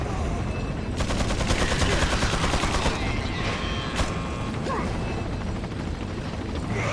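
Repeated gunfire rings out in the video game Resident Evil 4, with rapid volleys of shots and mechanical clatter rolling over a steady noisy backdrop.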